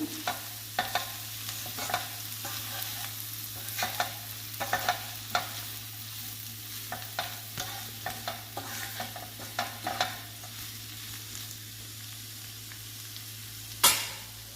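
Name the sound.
stirring broad bean curry with coriander in a pan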